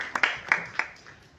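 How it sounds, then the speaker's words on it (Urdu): A handful of quick claps for children who raised their hands, four or five sharp hand claps fading out over a second, small and close. "شاباش، تالیاں جنہوں نے ہاتھ اوپر کیے"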